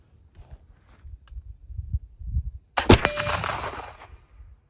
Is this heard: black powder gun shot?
yes